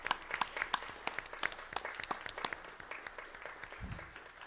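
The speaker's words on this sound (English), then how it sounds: "So I think we need to give Dean a round of applause for 25 years of service." A small room at a school district governing board meeting applauds a staff member's 25 years of service, with moderately loud, scattered claps that soften toward the end, and a dull low thump near the close.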